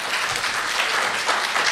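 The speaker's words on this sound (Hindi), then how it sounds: "एक बार ज़ोरदार तालियां आप सबों के लिए" Enthusiastic applause from a mushaira poetry gathering audience, a steady wash of many hands clapping together throughout, fairly close and unbroken, with no voices over it.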